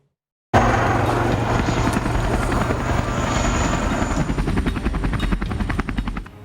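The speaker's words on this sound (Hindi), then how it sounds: "दूसरा रणवीर है LCH यानी कि लाइट कॉम्बैट हेलीकॉप्टर" India's LCH Light Combat Helicopter flies nearby after a brief silence: a loud, continuous rotor and engine roar that turns into a steady rhythmic thumping of blades toward the end.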